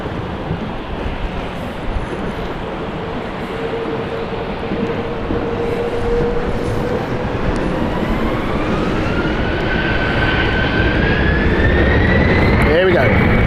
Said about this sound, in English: Let's just watch the Edinburgh flight take off, because that is very soon now.